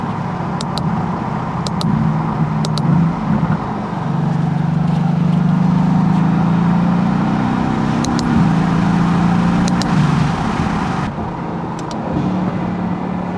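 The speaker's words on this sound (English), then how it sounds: "So we're gonna go for a drive" Inside a Mercedes-AMG car fitted with magnetic paddle shifters, a steady low engine and road drone fills the cabin while occasional sharp clicks from the shift paddles cut through.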